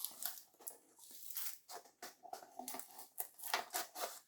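Hands tear and peel at the packaging of a Zelda Tears of the Kingdom collector's edition box without scissors, giving close, quiet crinkles, rips and scratchy bursts in an irregular rhythm.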